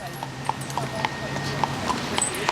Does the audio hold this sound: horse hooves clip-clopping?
yes